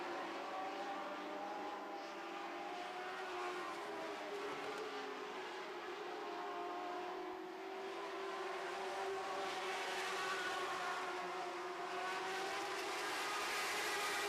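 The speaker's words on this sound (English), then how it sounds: "Great racing action here in the Lightning Sprint Division." Lightning Sprint race cars run a feature on an oval track, their engines whining and climbing in pitch as they pass, heard at a moderate distance with no talk.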